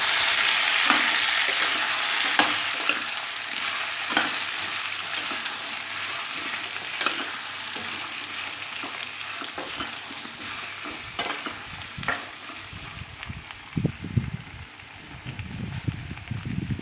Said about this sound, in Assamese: এতিয়া কোমোৰাখিনি দি দিছোঁ তেলত, আৰু কোমোৰা দুটা বস্তু দি অকণমান লৰাই দিম।